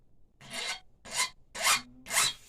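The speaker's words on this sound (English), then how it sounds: "A couple swipes of the file does just fine." Four even rasping swipes of a metal file across the tip of a finishing nail, close and clear, each stroke about a quarter second with short gaps between.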